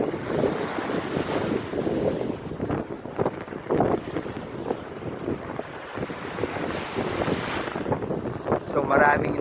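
Strong wind buffets the microphone at a beach park where kitesurfers and windsurfers ride, a loud continuous rumbling roar with gusty swells and surf noise beneath for the whole stretch.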